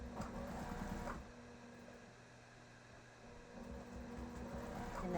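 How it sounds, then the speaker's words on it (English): A sewing machine stitching a zipper pouch runs in steady mechanical bursts, a close whirring hum that eases off in the middle and then picks up again. "We're going to go back to the sewing machine."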